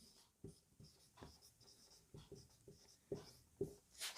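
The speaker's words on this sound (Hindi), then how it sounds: "यहां पे लिख देता हूं क्योंकि इस साइड में हम अवशेष लिखेंगे" Marker or chalk writing on a board during a Hindi lesson about the ancient civilizations of Rajasthan, heard as a series of short, close scratchy strokes spaced irregularly, growing a bit louder toward the end, with no talking.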